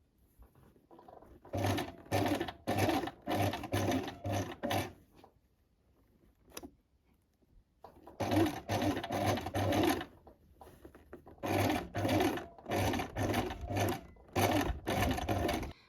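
A sewing machine runs in bursts while stitching closed the bodice of a dress along its lining seam, with a lengthened stitch, three long runs of steady rapid needle chatter separated by short pauses, close and alone.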